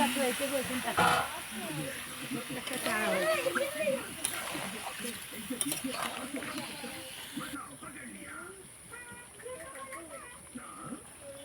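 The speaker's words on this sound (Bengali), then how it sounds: "ভালো করে ভেজে নিয়েছি এবার একটু মশলা ধোয়া জলটা দিয়ে দেবো" Spiced water splashes into hot oil over frying boal fish heads, setting off a loud sizzling hiss that fades gradually, with someone talking over it.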